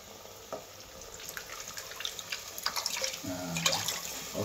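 Ginger-garlic paste water being poured into a pan while fish cooks, a close trickling and splashing pour that grows fuller toward the end, with no talk.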